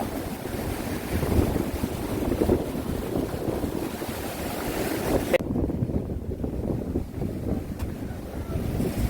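Big sea waves roll in against the shore by Yeonggeumjeong pavilion next to Dongmyeong Harbor, a loud continuous surging wash with heavy wind buffeting the microphone, easing briefly in the high end partway through.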